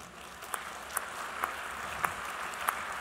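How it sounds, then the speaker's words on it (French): Steady audience applause fills a hall after a political talk about joy and changing the world, an even clatter of many hands punctuated by a few sharp, louder individual claps at regular intervals. "Puisque vous m'applaudissez"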